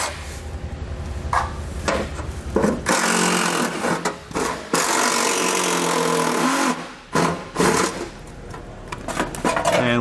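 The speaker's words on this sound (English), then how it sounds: "we're going to take those out with a 10mm socket" A 10mm socket on a power tool spins out heat shield bolts under a 2017 Subaru Forester, with close, loud bursts of whirring separated by short pauses and light metallic handling.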